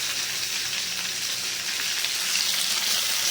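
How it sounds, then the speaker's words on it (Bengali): Fish belly pieces fry in hot oil in a home kitchen, giving a steady, close, hissing sizzle throughout with no talk. "দেখো যে তেলটা দিয়েছিলাম সেই তেলেই সব মাছ ভাজা হয়ে গেছে"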